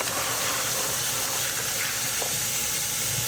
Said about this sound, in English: I'm just gonna rinse them really good.